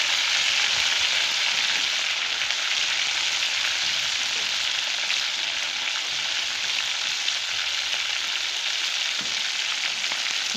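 Chicken pieces fry in a pan for a village-style chicken curry, making a loud, continuous crackling sizzle that stays even throughout with no voices.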